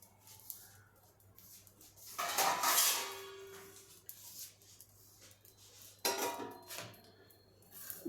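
Metal lid set onto a hot pan holding bread and potato wedges in a home kitchen, a short clattering scrape followed by a quiet gap and a second lighter clink, close and moderately loud.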